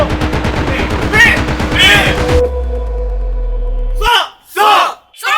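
Heavy gunfire in a joint ROK-US live-fire firepower training exercise: a rapid, loud machine-gun-like burst runs for a couple of seconds, then a deep sustained rumble, followed by shouted commands.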